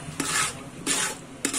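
Mutton is stirred in a cooking pot in three scraping, sizzling strokes, each starting with a sharp scrape and trailing into a hiss, all close and moderately loud with no voices.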